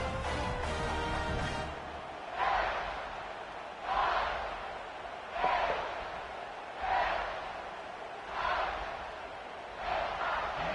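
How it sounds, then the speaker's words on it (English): Miami fans in a stadium crowd cheering at the Cotton Bowl in College Football 26, with a loud roar that swells in repeated surges about every one and a half seconds over a steady crowd background. "The Miami fans in the crowd alive and well."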